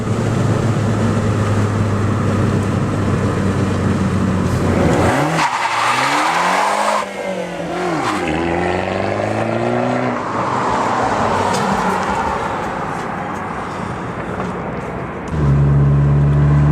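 A turbocharged 2013 Fiat 500 Abarth engine revs hard and loud, pitch sweeping up and down through several gear changes, with a faint turbo whine riding over the engine roar.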